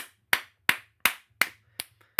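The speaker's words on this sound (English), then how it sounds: "they stand up and they start applauding him" Applause from an audience standing up, heard as six sharp, evenly spaced clap bursts roughly every third of a second, fairly close and clear with a faint low hum beneath and no voices.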